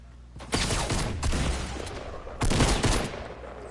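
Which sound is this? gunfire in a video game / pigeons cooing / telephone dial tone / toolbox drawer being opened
gunfire in a video game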